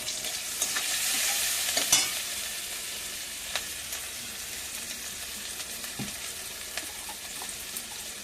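Chopped onion with garlic and ginger paste sautés in oil in a kadai, producing a continuous soft sizzle with a few brief stirring scrapes and clinks, and no talking.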